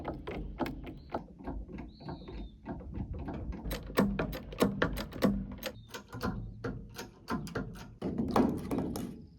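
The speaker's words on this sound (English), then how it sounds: "reposition the jacks to lift them up," Mechanical jacks ratchet and clunk while lifting a steel shipping container by hand, a steady run of close, sharp clicks and knocks that grow louder and denser toward the end, with no voices.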